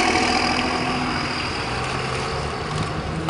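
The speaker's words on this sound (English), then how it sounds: "It's a Cummins." A Cummins diesel truck engine idles nearby with a steady low rumbling rattle and a faint whine, continuous and fairly loud.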